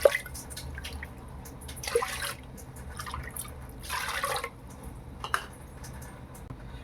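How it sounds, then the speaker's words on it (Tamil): Water poured into a pot of raw rice while making sakkarai pongal, a near, soft trickling and dripping with a few brief louder splashes spread through the pour. "அதே கப்பில் ஒரு 3 கப்பு தண்ணி சேர்த்துக்கலாம்."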